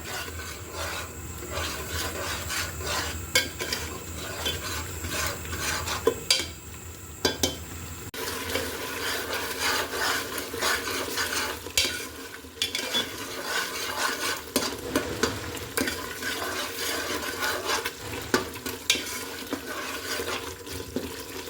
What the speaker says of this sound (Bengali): বাদাম বাটা দেওয়ার পর কিন্তু অনবরত নাড়তে হবে, বাদাম বাটা কিন্তু লেগে যাওয়ার সম্ভাবনা থাকে